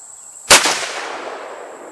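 Single sharp rifle shot from a CVA Scout chambered in .35 Whelen firing Barnes blue-tip bullets outdoors, a loud close crack followed by a short rolling echo fading away.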